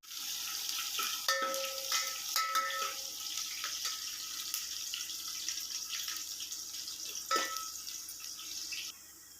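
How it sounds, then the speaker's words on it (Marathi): Onion frying with turmeric, garam masala, coriander powder and chilli powder for masala bhat, giving a steady, quiet sizzling hiss with a few brief louder crackles. "कांदा टाकून घेऊया"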